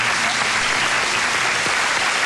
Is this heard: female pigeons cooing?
no